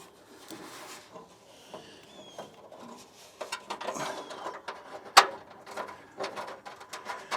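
A ratchet tightens a bolt on a racing radiator in a Ford F600 U-Haul truck, giving quiet, close bursts of mechanical clicking with one sharp knock partway through.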